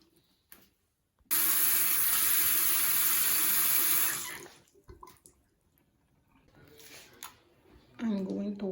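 Lukewarm tap water runs in a steady, loud, close gush for about three seconds before being shut off, followed by quiet handling sounds and a brief voice.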